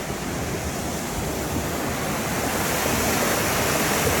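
Steady, loud roar of the Narutaki waterfall, a broad unbroken rush of falling water filling the scene from start to finish with no voices.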